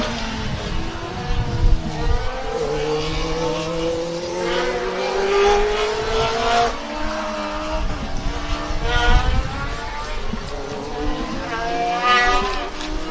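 A Formula Student race car from the Polish team screams around an endurance event circuit, its high-revving engine rising and falling through gear changes as it passes, loud and continuous with a faint voice underneath.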